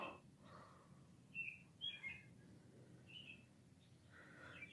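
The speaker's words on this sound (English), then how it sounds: "The birds have been chirping since 3:43 a.m." Birds chirping in the early morning, a few faint, high tweets and short calls scattered across the stretch over a quiet background hiss.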